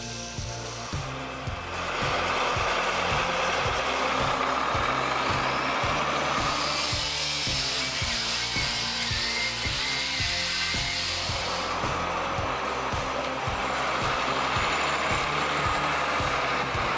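A Belarus MTZ tractor drives through a muddy forest, its diesel engine a steady, loud, continuous drone with a regular low throbbing pulse that holds for the whole stretch, with no talking.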